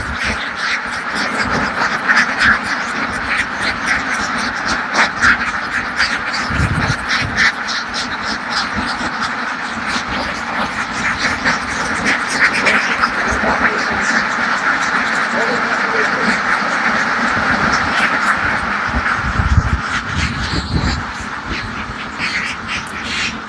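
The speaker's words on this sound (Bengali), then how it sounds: "উনি 3000 হাঁস দিয়ে একটি বিশাল একটি হাঁসের খামার" Thousands of ducks on a large 3000-duck farm in Purba Singhagram, Lakhai, quack in a dense, continuous, loud chorus close by throughout, with people talking underneath.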